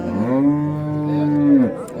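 A single long, loud cow moo with a steady low tone, swelling and then cutting off after about a second and a half, close by.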